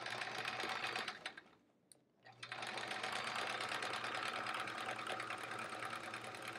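Sewing machine free-motion quilting a baby quilt with fleece backing through a quilting presser foot, couching a design; a steady close-up whirring stitch runs nearly throughout, stopping briefly for a moment before resuming at full speed.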